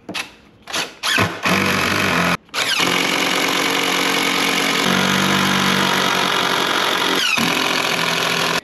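A power drill bores pilot holes straight into wood, running loud and steady for several seconds after a few short starting bursts, with a brief stop partway through.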